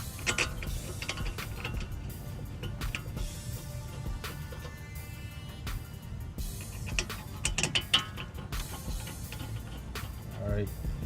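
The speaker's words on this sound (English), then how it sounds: "use a 13mm socket and ratchet to tighten the two caliper bolts" A 13mm socket and ratchet tightening two brake caliper bolts on a 2006-2010 Dodge Charger, a run of rapid quiet clicking bursts with short pauses over a low background hum.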